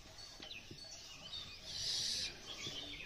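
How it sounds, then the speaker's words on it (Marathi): Birds call and chirp around a Konkan village at morning, scattered high tweets near and far with a brighter burst of song in the middle, over a quiet outdoor background. "पक्ष्यांचा आवाज ऐकू शकता तुम्ही।"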